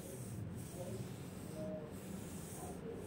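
A spoonful of butter melting into leftover hot oil in a pan, producing a steady, even sizzling hiss that continues without a break.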